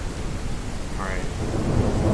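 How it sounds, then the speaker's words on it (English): A video game thunderstorm rolls on: low continuous thunder rumble with rain and wind, swelling slightly toward the end, loud and unbroken. "Thunder."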